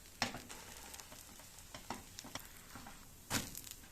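A potato rösti fries in butter in a pan, a quiet steady sizzle broken by several sharp scraping and tossing clatters of the pan, close and without talk.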